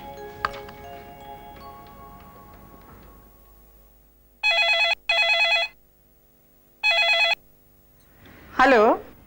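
An old-style telephone bell rings three times in a dramatic Hindi TV serial scene, sharp metallic trills in short bursts with a gap before the third. Quieter room sounds and brief tones come before the rings, and a warbling chirp follows.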